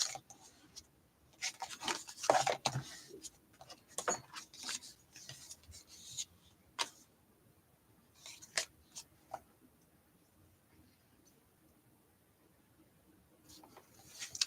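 A finger or tool rubs an embellishment down onto a handmade Easter bunny card, giving soft, faint rasping and scraping strokes in short irregular bursts on a quiet table.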